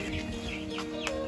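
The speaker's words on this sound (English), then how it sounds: "we'll come check on some baby chicks" Chickens cluck and peep in a short, busy burst on a cattle farm, close and fairly faint over a steady background hum.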